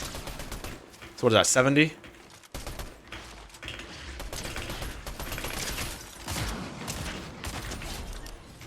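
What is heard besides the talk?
gunfire in the video game Fortnite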